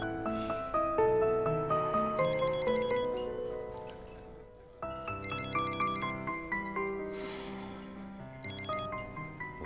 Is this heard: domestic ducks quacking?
no